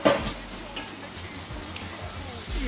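Tofu noodles fry in a pan while being stirred, a soft, steady sizzle with faint scraping, quiet and close, briefly under a little talk at the start.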